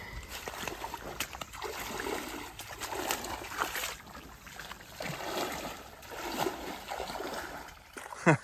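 Feet wade and slosh through swamp water on a Florida forest trail, with irregular splashes and trickling drips close by, moving steadily for several seconds without speech.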